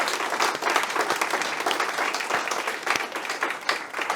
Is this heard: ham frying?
no